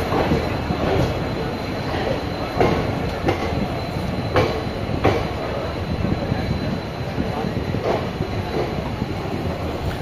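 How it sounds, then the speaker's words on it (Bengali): The Rampurhat-Howrah Sahid Express pulls out of Bardhaman station, its wheels giving a steady run of rhythmic clacks over the rails with continuous rolling rumble and faint squeal, close and loud throughout. "তো চলুন বর্ধমান থেকে ট্রেনটা ডিপার্টিং দেখি"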